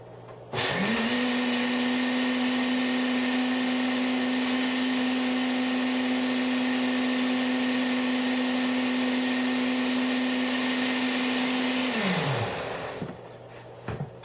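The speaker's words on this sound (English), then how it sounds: "Blend this for a few minutes until everything's combined very well." An electric blender whirs steadily for about eleven seconds while mixing homemade rum cream ingredients, a loud, even motor drone that starts abruptly and winds down at the end, with no one talking.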